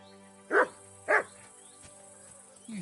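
A dog in the video game Kingdom Come Deliverance 2 gives two short, close barks about half a second apart, followed later by a softer whimpering yip over a quiet background hum.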